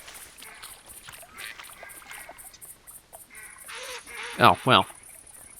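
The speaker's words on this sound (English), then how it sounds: "That explains why I'm hearing so many ducks." Several duck quacks and honks scattered through an outdoor bayou soundscape in the hunting game theHunter: Classic, with two loud calls near the end and a brief spoken remark.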